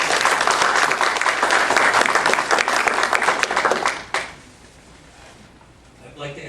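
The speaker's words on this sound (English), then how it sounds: "I'd like to ask once again that you keep your applause down to a minimum" Audience applause at a community association mayoral forum, a loud dense burst of clapping from the crowd that stops abruptly, leaving a quiet room with faint stirring.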